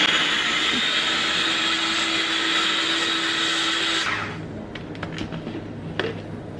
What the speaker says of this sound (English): I'm just gonna start pureeing this mixture